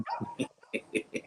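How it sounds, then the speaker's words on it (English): Dogs bark close by in a quick run of about six short, sharp yips and barks, evenly spaced. "Sorry about the dogs"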